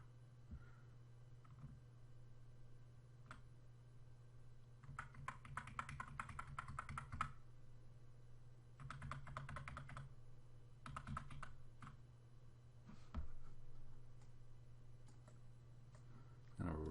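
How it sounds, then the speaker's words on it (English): Computer keyboard arrow keys are tapped in short rapid bursts of clicks, spaced by pauses, over a steady low hum in a quiet room while working on a chopper body model. "And we'll use the arrow keys to put it into place."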